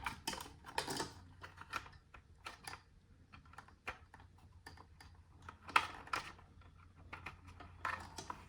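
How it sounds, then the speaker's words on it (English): Connectors are pushed into a Frigidaire refrigerator's display board during a water dispenser replacement, giving a series of small, sharp plastic clicks and taps at close range, irregularly spaced against a faint hum. "When you hear it click, that's when you know it's in."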